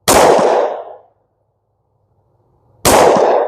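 Two loud, sharp shots from a 10mm pistol firing CCI Blazer aluminum-case ammunition, spaced almost three seconds apart, each ringing out alone and decaying over about a second.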